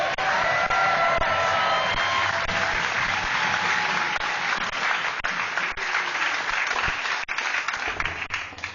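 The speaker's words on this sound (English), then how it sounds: "Clap your hands, give it up for Sam Avery!" Loud, sustained audience applause with scattered whoops and cheers at a comedy show, greeting comedian Sam Avery as he takes the stage, dense clapping that barely thins throughout.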